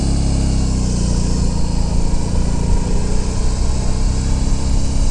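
A brand-new motorcycle runs in first gear with a new clutch, its engine giving a steady, close, buzzy hum with slight throttle fluctuation and no talking.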